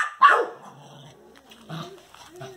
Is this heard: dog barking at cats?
yes